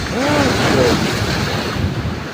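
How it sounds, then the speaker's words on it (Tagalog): Strong ocean waves roar steadily with gusty wind buffeting the microphone, a loud, continuous wash of surf. "malakas talaga ang alon"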